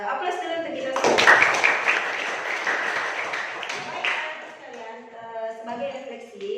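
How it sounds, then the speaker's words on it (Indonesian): Students applaud in a high school classroom, a burst of clapping that peaks early and then thins out beneath teachers' and students' voices. "Aplaus dulu untuk kita semua."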